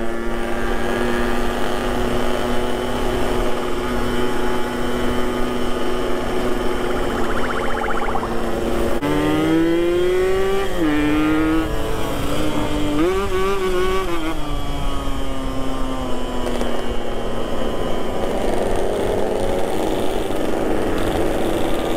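Stock Yamaha RX King two-stroke motorcycle ridden at top speed on a Makassar road, its engine screaming loud and close with a steady high drone, then rising and falling revs through gear changes midway before settling back to a steady wail.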